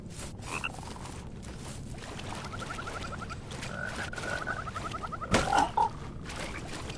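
A frog creature in the game Mortal Shell gives repeated low croaks and rattling trills over a dark ambient hum, growing louder near the end with a sharp hit.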